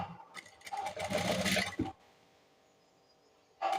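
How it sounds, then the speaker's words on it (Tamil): Sewing machine stitching piping onto a garment neckline: a close, fast mechanical whir runs for nearly two seconds and stops, then starts again briefly after a quiet pause. "மார்க் பண்ண பக்கத்தில் இருந்து தையல் போட்டுக்கலாம்."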